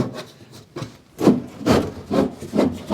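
Igloo 6-gallon plastic water jug dragged out of a tight notch in a truck slide-out kitchen, a run of rough scraping rubs in uneven pulses, close and fairly loud with no talking.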